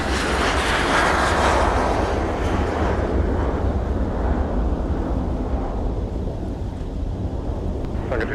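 An airliner takes off from runway 30 left at Minneapolis–Saint Paul in winter, its engines a broad, steady roar that fades slowly as it climbs away, with wind buffeting the microphone throughout.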